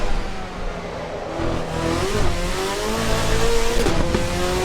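A car engine revs and climbs through the gears in the Assetto Corsa Evo racing game. Its rising harmonic whine is loud and continuous, with brief dips at the shifts.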